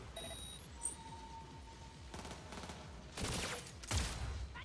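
Rapid gunfire bursts in a first-person shooter video game, with a couple of louder volleys near the end over a steady busy game background.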